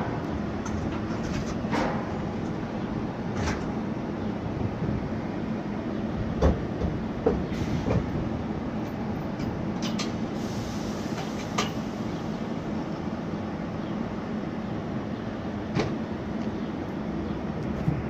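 A subway train runs express between Burnside and Marshall Loop Parkway, its steady loud rumble and rail roar continuous throughout, with occasional sharp clicks and squeals from the wheels and track.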